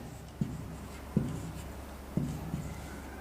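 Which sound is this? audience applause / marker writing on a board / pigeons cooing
marker writing on a board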